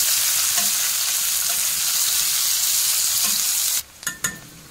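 Onion sautéing in hot oil gives a loud, steady hiss for several seconds, then goes quiet apart from a few sharp stirring clatters near the end, with no one talking.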